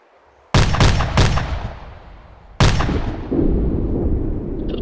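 Video game 60mm mortar fire: three sharp, loud launch blasts in quick succession, then a pause before another loud report, each followed by a rumbling decay, with no talking.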